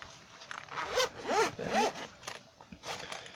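A zipper on a bag section is pulled in a few quick, close rasping strokes, loud and alone without talk.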